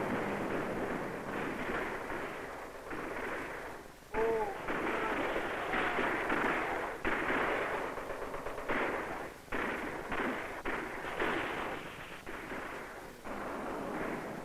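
Gunfire and explosions rattle across the Bay of Pigs invasion beach on archival film, a dense, continuous din of shots and bursts with uneven surges throughout.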